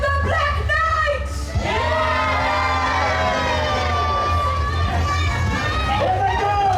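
Crowd at a jousting show cheering for the Black Knight, a loud sustained roar of shouts and high-pitched whoops, many children among them, filling the whole span with voices layered over a steady low rumble.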